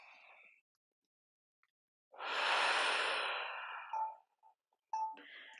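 A deep breath drawn in and let out slowly through the mouth during a yoga core workout, one long, fairly close exhale lasting about two seconds, followed by a couple of faint soft chimes.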